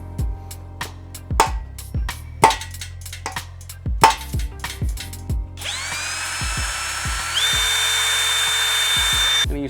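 Drill bit boring into an LS2 engine for a heli coil install, preceded by a series of sharp metallic taps, then a steady, loud, high-pitched whining drill that runs continuously for the final few seconds.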